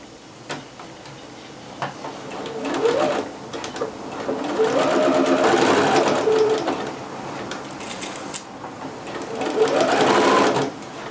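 A sewing machine runs a regular 5/8 seam through two pieces of dress fabric, in three bursts of rapid stitching broken by short pauses, close and clear.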